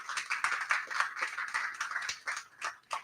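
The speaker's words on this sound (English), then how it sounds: "Please give her another round of applause." Steady crowd applause, many hands clapping together in a dense, continuous patter that swells and dips slightly, heard from within the room.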